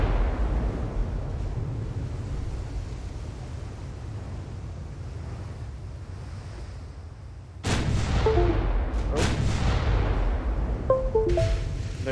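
Heavy naval guns boom from battleships in an Ultimate Admiral: Dreadnoughts sea battle, a steady low rumble broken by a sudden loud salvo and further distant blasts with ringing tails.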